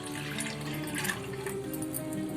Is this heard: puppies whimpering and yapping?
no